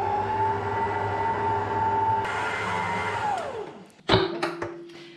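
A dough mixer roughly combines water and flour for sourdough bread, running with a steady whirring motor hum that winds down, followed by clunks and knocks as it stops.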